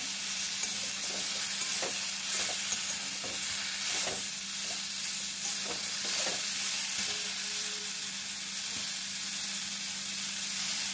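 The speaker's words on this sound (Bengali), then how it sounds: "এটা ভালো করে নাড়বো।" Star fruit pickle with salt is stirred in a pan: scattered scraping and tapping strokes at an uneven pace sit over a soft, constant cooking hiss and low hum, with no one talking.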